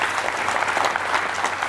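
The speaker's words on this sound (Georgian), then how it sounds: "აპლოდისმენტები" A studio audience on a literature quiz show claps in a short, dense burst of applause.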